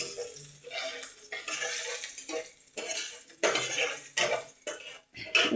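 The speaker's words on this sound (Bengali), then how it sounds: "এবার আমি মশলাটাকে ভালো করে নাড়িয়ে নেব।" Masala spices, including asafoetida, are stirred in a pan for a potol curry, making irregular bursts of spatula scraping and clinking against metal over a soft sizzle.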